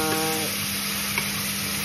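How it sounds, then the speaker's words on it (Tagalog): Meat sizzles steadily in a hot pan as it fries until browned for a munggo bean dish, a continuous close crackle with a faint steady hum underneath. "Fry ko muna habang mag-brown."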